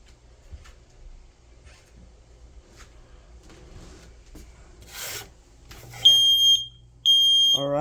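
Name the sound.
smoke alarm beeping during smoke test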